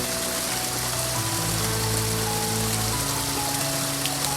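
A small stream runs beside a mountain path the day after rain, giving a steady, close, broadband rush of flowing water with no pauses and no voices.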